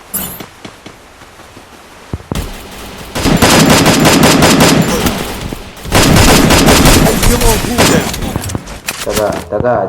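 Rapid automatic gunfire from the Free Fire battle royale game, a duo-versus-squad match, rattles in long loud bursts with short pauses between volleys, while a player talks over the shooting.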